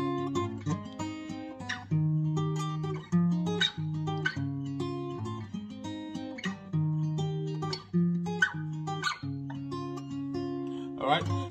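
Guitar plays a riff, with clear plucked notes and chord stabs in a steady, bouncy rhythm, close and alone.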